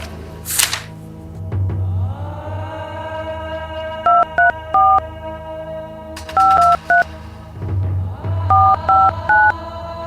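A telephone is dialed in a Hindi village drama, with a short burst of button-press tones, then two clusters of rapid dual-tone keypad beeps alongside a low hum and faint background voices.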